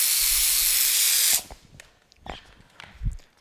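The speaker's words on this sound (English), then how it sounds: "I'm going to spray a little bit of tack with the steamer" A garment steamer hisses loudly and steadily for over a second, spraying tack onto car mirror protection film on a Porsche, then cuts off, leaving faint handling rustles and light taps.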